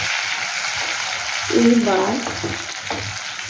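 A watery paste of mustard, poppy seed, ginger and chili hitting hot oil with two chilies, a loud close sizzle that swells suddenly midway, with a brief spoken word over it.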